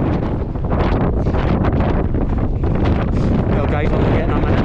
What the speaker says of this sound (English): I'm getting a minute of this wind. It's been unbearable all the way up.